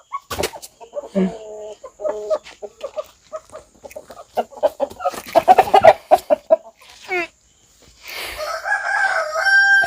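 A large rooster crows and clucks close by in several bursts on a poultry farm, with other fowl calling and brief background noise.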